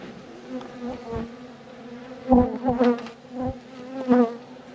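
Honeybees buzz at an opened hive being winterized, a close, steady humming drone with several louder, agitated passes as individual bees fly past near the listener.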